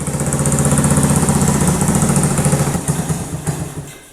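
A Honda three-wheeler's small engine, long abandoned in a field, idles loudly and close by, a steady rapid chugging that stumbles slightly toward the end.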